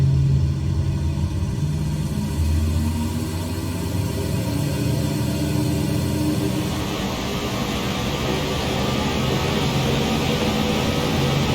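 A Lockheed L-10A propeller airplane engine drones at full power in Microsoft Flight Simulator 2020, a steady low rumbling hum with a strong buzzing tone that holds constant and shifts slightly midway.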